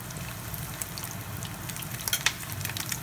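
Okra and shrimp balls fry in hot oil with a soft, steady sizzle and scattered crackling pops, close but fairly quiet.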